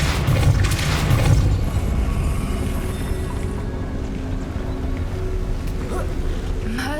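The Depulso spell goes off in Hogwarts Legacy, a loud low boom and rumbling burst that fades into a long softer whoosh. A few faint higher chimes follow near the end, and no one speaks.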